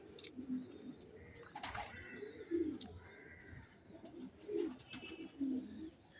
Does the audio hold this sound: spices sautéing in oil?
no